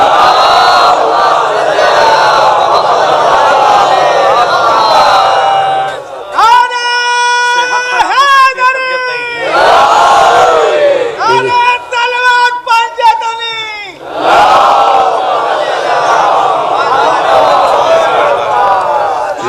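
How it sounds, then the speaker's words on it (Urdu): A large crowd loudly recites salawat in unison at a religious gathering: several long, swelling waves of massed voices chant together, very loud and close, separated by brief pauses. "ایک اور بلندر صلوات پڑھیں۔"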